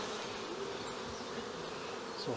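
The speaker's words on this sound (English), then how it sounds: "Bees everywhere." Honey bees swarm around an open hive during queen rearing, a dense, steady buzzing drone close by that fills the whole stretch without pause.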